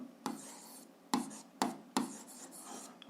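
A pen scratches out an algebra equation on paper, close and quiet, with several sharp strokes and taps amid soft continuous scribbling.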